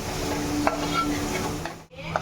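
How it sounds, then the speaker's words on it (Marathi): A pot of Malvani fish curry with red chilli being stirred, giving a steady scraping and bubbling texture with a couple of brief clinks near the middle and end, moderately close with no talking. "ढवळलं मस्त."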